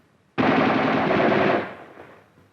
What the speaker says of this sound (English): the student grabs an M14 and keeps firing